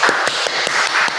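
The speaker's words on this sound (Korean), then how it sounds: "우리 김은정 선교사님 박수로 환영하겠습니다" Audience clapping to welcome a missionary speaker at a forum on medical missions in Cambodia: dense, steady applause with a few sharper claps standing out, close and fairly loud, no talking.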